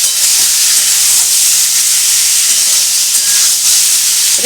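Potato curry fries in a pan with a loud, continuous sizzle and steamy hiss, close up, with occasional stirring scrapes and no voices.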